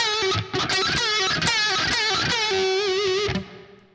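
Heavily distorted electric guitar playing a main riff with pick-on-string noise, loud and up close, with dense harmonic pick scrapes and wavering bends over four seconds before ringing out.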